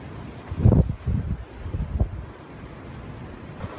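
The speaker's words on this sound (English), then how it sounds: "it's hard to hear myself above all the, the uh, wind noise" Stormy wind buffets an outdoor camp, loud low rumbling gusts striking the microphone in uneven bursts, with no voices.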